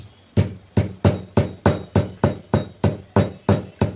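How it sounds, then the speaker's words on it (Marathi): Green cardamom and ginger are pounded for masala tea, giving about eleven sharp, even thuds in a steady rhythm, close and loud with nothing else heard. "आणि अद्रक टेचल्यानंतर आपल्याला त्याच्यात टेचायच्यात 2 हिरवी इलायची"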